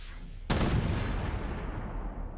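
A single loud tank cannon shot in Armored Warfare, fired at an M60 in a sniper role: a sharp blast followed by a long rumbling decay.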